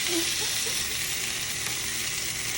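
Sous vide steak searing in a hot skillet, a bright steady sizzle and spatter close up, filling the moment with no voices.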